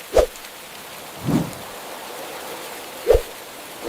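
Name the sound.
rain falling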